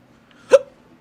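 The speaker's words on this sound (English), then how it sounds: "God. Hiccups." A single sharp hiccup, close and loud, stands alone in otherwise quiet surroundings.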